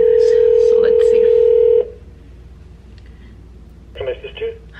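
A hotel room telephone in Phoenix, Arizona gives a loud, steady tone that cuts off after about two seconds. A quiet pause follows, then a short burst of dialing beeps near the end.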